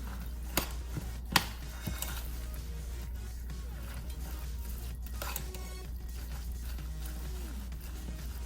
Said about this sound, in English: I'm gonna continue to stir.